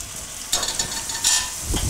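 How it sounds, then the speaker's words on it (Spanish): Beef pieces sizzle as they are returned to a casserole pan with flour and wine for a mushroom beef stew, loud close spitting bursts over a steady frying hiss. "incorporamos de nuevo la carne en la cazuela"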